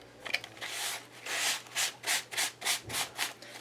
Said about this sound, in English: I, of course, am going to bring in my sandpaper, my sand block, and bring up some of this texture